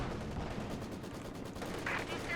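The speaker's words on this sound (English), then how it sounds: "Hold on, MG fire" Machine gun fire in the wartime strategy game Company of Heroes 2 rattles as a dense continuous burst, loud and close inside a busy battle din.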